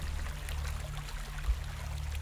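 River water in the video game Gothic 2 flows in a steady, low rushing murmur with a constant deep rumble, moderately quiet and continuous, with one brief soft thump near the middle and no talking.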